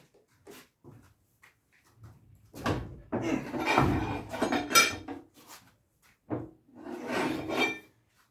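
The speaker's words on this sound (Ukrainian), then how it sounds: "Так, ключ взяли і попускаємо гайку." A nut being loosened with a wrench produces close metallic scraping, clinking and grinding bursts with pauses between efforts. It sounds like heavy farm machinery.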